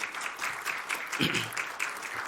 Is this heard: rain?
no